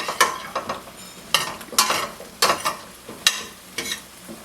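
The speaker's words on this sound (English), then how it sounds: "Coating all of the Brussels sprouts in the oil" Brussels sprouts and garlic tossed in hot oil in a pan over medium-high heat, with sharp clattering stir strokes arriving in irregular bursts over a soft background sizzle, close and moderately loud.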